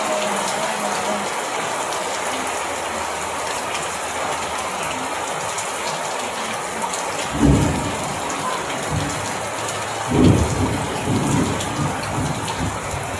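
Steady heavy rain pours onto surfaces during a rainstorm, broken by two deep rolling thunder rumbles in the later half, with no talking.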